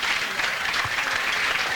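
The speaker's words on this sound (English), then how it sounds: "Big round of applause" An audience at a Dublin celebration night applauds for the team captain, steady dense clapping close and continuous throughout the short stretch.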